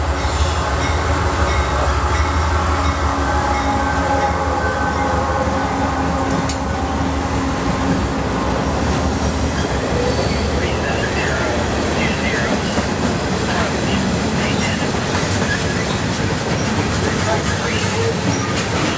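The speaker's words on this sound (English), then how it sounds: "coal train" An eastbound CSX coal train rumbles steadily past, close and loud, with continuous rolling wheel noise, rattling cars and occasional metallic squeals.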